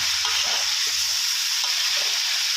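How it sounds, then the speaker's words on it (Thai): Shiitake mushrooms and palm sugar are stir-fried in a pan for a chicken-rib mixed-vegetable soup, giving a steady close sizzle with a few soft scrapes and stirs. "ใส่น้ำตาลปี๊บลงไปหน่อยนะครับ แล้วก็เห็ดหอมลงไปผัดเลยนะครับ"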